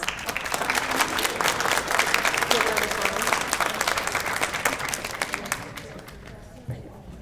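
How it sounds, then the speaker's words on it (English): Luncheon audience at a holiday gathering applauds a chamber orchestra, dense steady clapping with crowd murmur lasting several seconds before tapering off near the end. "let's give them another round of applause."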